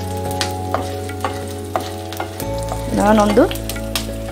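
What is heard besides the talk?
cashews frying in a pan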